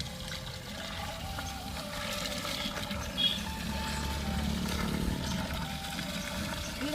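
Water from a motor pump on a farm pours and trickles steadily into a container, a soft, continuous flow with a faint hum underneath and no talk.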